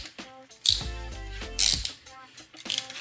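A ratchet clicks while tightening a 6mm bolt on a 2014-2017 Chevy Caprice PPV rear shock, with three separate bursts of close, crisp pawl clicking between quieter moments.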